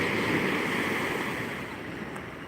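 Ocean waves surge and wash steadily onshore, a broad continuous rush of surf with a breezy, windy edge, fairly loud and close, fading slightly toward the end with no voices.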